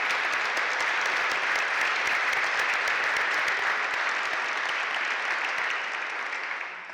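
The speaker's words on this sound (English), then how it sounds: "with a round of applause for their vision and their commitment." Conference audience applause for health ministers from the Americas, a dense, even roar of many hands clapping that holds steady and begins to fade toward the end.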